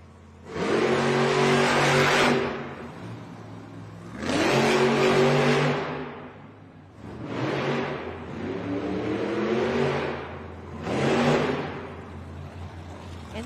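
A Stone Crusher monster truck engine revs hard at a Monster Jam arena show in Grand Rapids, roaring in four loud, sustained bursts with dips between them, close and dominant with no talk.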